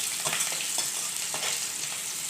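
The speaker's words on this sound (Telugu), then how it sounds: "చిల్లీస్ కూడా కొంచెం ఫ్రై అయ్యాయి" Chillies sizzling and frying in hot oil with onions for semiya upma, a steady close crackle with light stirring scrapes throughout.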